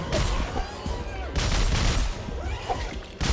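Weapon fire in the Dead Space 3 video game during a boss battle: loud, dense bursts of shooting with explosive booms, sustained throughout with brief lulls, with a voice under the gunfire.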